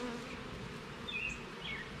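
Honey bees hum steadily at an open hive, a low continuous buzz with a few individual bees passing close and briefly louder.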